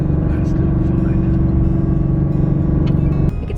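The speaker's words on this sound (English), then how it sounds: "Oh yeah, the Coyote V8." Ford Coyote V8 truck engine droning steadily from inside the cab while driving, a continuous low hum with a slight change near the end.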